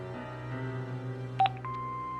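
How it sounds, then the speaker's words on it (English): An answering machine in the video game Broken Sword 5: The Serpent's Curse gives a short pair of electronic beeps followed by a steady sustained tone, sounding close and clean over a faint low background hum. "Hobbes's answer phone, and he's got messages."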